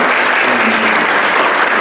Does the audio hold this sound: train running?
no